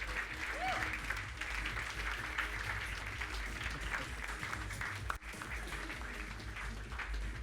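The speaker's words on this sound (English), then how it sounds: "Give a massive round of applause" Sustained applause from an audience at a Startup Grind Cape Town event as the guest speaker takes the stage, dense and steady throughout, with a brief whoop and scattered voices mixed in.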